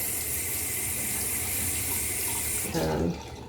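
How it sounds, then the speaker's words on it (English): Lukewarm tap water runs steadily onto a facial cleansing pad at a sink during a skincare routine, a close, continuous hiss that stops abruptly near the end. "I'm gonna put a little bit of lukewarm water on the pad"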